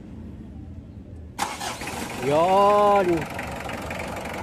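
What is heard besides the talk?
Mitsubishi Adventure engine starting and idling after timing belt replacement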